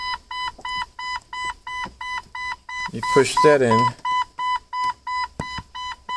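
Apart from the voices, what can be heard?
repeated beeping from a 1997 Jeep TJ during light switch install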